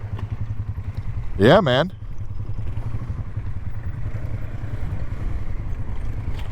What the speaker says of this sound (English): That's how you ride a Polaris, right there